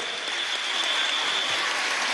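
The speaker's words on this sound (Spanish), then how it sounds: "Vamos, un aplauso a esta bailarina, ¿vale?" An audience at a large political rally applauds a dancer, a dense, steady wash of clapping from a big crowd, loud and continuous throughout with no single hands standing out.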